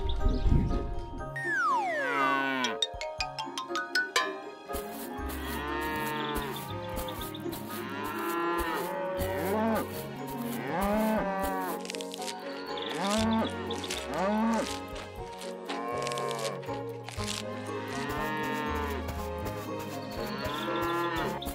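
Cartoon cow mooing in a farm-animal cartoon, several drawn-out moos rising and falling over a steady bed of loud background music, with no talk.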